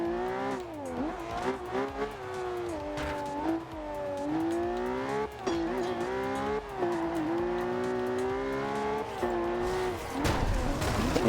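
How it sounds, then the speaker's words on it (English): A Ferrari LaFerrari in Forza Horizon 2 screams through rising and falling revs, its engine loud and close from the cockpit, ending in a burst of tire squeal. "car I'm driving is the Ferrari LaFerrari"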